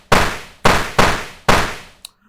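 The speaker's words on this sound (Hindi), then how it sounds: "उसके बाद हमारे पटाखे फूटने चाहिए ऐसे" Four sharp firecracker bursts go off in irregular succession, each a loud crack with a decaying tail, followed by a small faint pop at the end.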